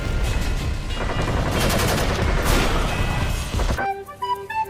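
Rapid, dense gunfire from a Dr. Stone anime battle scene rattles loudly and continuously in overlapping bursts, then gives way to brief musical tones at the end.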